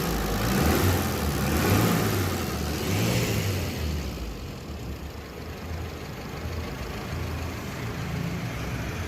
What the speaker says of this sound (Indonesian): Mau digeber-geber lagi? Oke, kita geber-geber lagi nih.